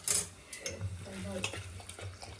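Unniyappam batter being stirred by hand, a soft, wet scraping and sloshing close by, continuous with a few sharper knocks against the container.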